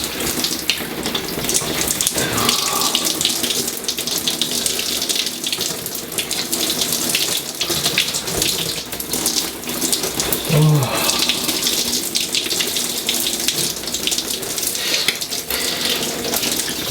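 Cold shower water runs in a steady, loud rush that fills the whole clip, with no voices heard.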